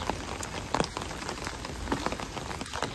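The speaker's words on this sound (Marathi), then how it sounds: "कारण पाऊस पडतोय, 4-5 दिवस मुसळधार पाऊस पडतोय" Heavy rain pours steadily onto surfaces outdoors in a green, monsoon-soaked area near a village temple, a dense, continuous hiss with scattered louder drops throughout and no voices.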